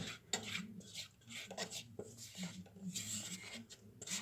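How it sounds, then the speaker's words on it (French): A utensil scrapes a diluted pastry mixture for a Paris-Brest into a saucepan, giving repeated close rasping strokes in an uneven rhythm. "Voilà, je racle bien."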